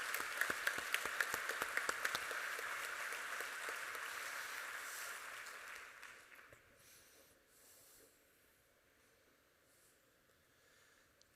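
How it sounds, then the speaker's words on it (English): Audience applause for a county leadership team at a State of the County event, a crowd clapping for several seconds before fading out to near silence. "Let's give them all a round of applause."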